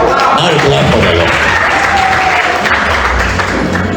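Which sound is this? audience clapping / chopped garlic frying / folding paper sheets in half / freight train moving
audience clapping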